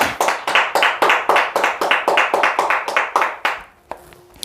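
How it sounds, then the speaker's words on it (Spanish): Rhythmic group clapping in a church service, steady unison claps at about four per second for three and a half seconds, then stopping abruptly, followed by a faint tap. "Aplauso a Dios."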